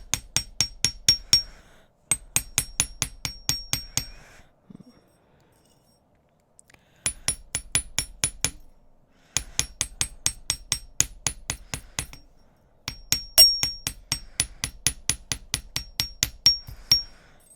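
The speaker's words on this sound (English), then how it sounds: "I'm gonna hammer this part so that it's nice and sturdy for me." Rapid, sharp metallic taps from a small hammer on a metal cuff bracelet come in bursts of steady strikes, pausing briefly between rounds, close and loud.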